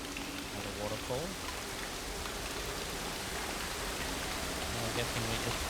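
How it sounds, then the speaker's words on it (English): Waterfall in the video game Dear Esther, a steady broadband rush of falling water at moderate level, continuous and unbroken, with brief voice-like tones underneath. "Another waterfall."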